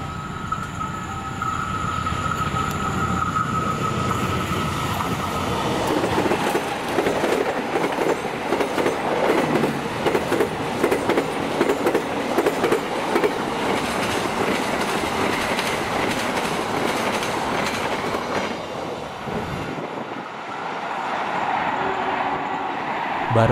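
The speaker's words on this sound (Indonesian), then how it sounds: "Barusan juga lewat kereta api Jakatingkir 222." The Jakatingkir 222 passenger train passes through Kosambi station in Indonesia, a loud continuous rush of rolling wheels and rhythmic clickety-clack sustained for about twenty seconds before easing off.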